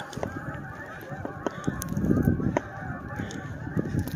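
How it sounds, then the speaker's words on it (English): Flock of geese honking outdoors after flying off, many overlapping calls in a steady busy chorus, moderately near, with no talking. "And that noise you hear are the geese"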